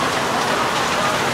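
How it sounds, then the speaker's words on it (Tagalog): Steady rain pours outside a busy restaurant in Quiapo, Manila, a dense, even hiss of drops falling on surfaces that runs unbroken for the whole moment. "Dahil maulan."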